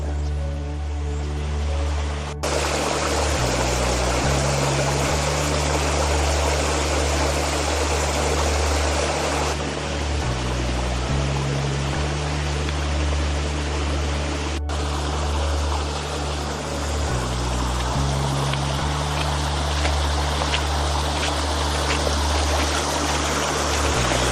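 A mountain creek runs over a flat stone bottom near a waterfall, a steady, full rushing wash of water that continues without a break, close and loud, with no voices.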